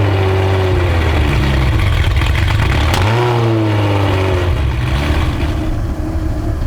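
A French hypercar's engine revs loudly up close, a deep droning roar that swells and dips with throttle blips, sustained throughout without any talking.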